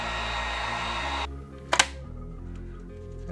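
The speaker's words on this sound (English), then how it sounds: "Got a heat gun." A heat gun blows hot air onto a peeling Z Fold screen protector as a steady, loud broadband rush that cuts off abruptly, followed by a couple of brief clicks and a lower hum.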